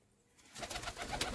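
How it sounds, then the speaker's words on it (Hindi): A male Laldume pigeon coos close by, a soft run of repeated coos swelling after a quiet start and continuing steadily, with no talk over it. "ये है नर, और बहुत ही बेहतरीन वजूद कबूतर है"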